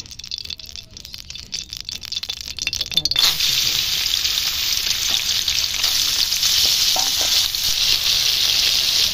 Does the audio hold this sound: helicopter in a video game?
no